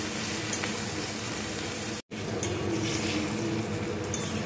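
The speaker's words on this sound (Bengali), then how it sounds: "এবার তেলে এই মশলাটা আমি দিয়ে দেব। একটু নুন, একটু হলুদ গুঁড়ো দিয়ে ভালো করে একটু নেড়ে নেব।" Spices with salt and turmeric powder fry loudly in hot oil while being stirred, a dense, close sizzle with scraping that continues steadily apart from one very brief dropout midway.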